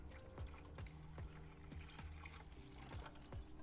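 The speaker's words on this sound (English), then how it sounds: "All I do is pour the water in my ice maker" Cold water from a bottle poured into the reservoir of a countertop ice maker in a kitchen, a steady, fairly quiet trickling pour with faint splashes, heard alone without talk.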